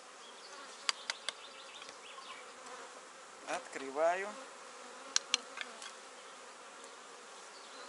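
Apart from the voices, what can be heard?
honeybees in an opened beehive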